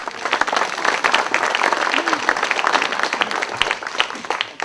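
Audience applause fills an open-circle talk venue in Ajijic, Mexico: dense, steady clapping from a seated crowd that stays loud and even throughout, with no voices rising above it.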